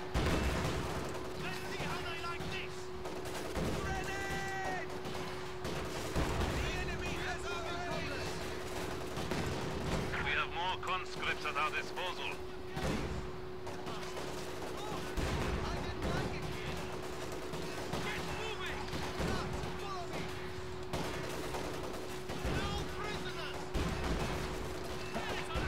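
Artillery and gunfire in Company of Heroes 2 churn on continuously, with rattling small-arms bursts and booming impacts under a constant battle din, while someone talks over the fighting.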